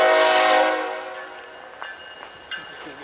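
A Florida East Coast freight train horn blasts loud and close at night, then fades within about a second into the quieter rumble and occasional clacks of passing rail cars.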